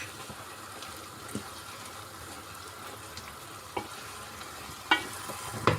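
Roughly a kilo of beef cubes browns in a pan for a Turkish tas kebab, a soft steady sizzle with occasional scraping stirs, a couple of clearer clinks near the end.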